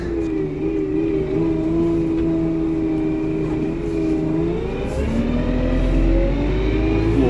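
A Lovol P4110 tractor hitched to a Lemken Opal 090 plough drives forward during autumn ploughing, its diesel engine droning loud and close with a steady hum that rises slightly toward the end.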